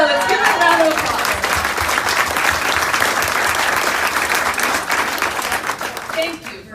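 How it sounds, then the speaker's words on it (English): Loud, sustained applause from a conference audience fills the space, dense clapping that stays strong throughout and fades slightly at the end, with a voice heard over it near the start. "Let's give it a round of applause."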